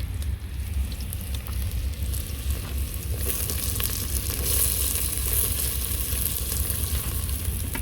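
Chopped onion and green chillies fry in a pan for masala Maggi noodles, a loud, steady, dense sizzle that carries on close by for about eight seconds, with occasional stirring and no talking.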